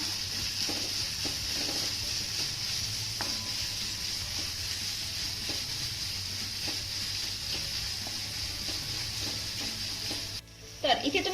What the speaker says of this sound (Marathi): आता हा कांदा आपल्याला छान असा मौसूद होईपर्यंत परतून घ्यायचा आहे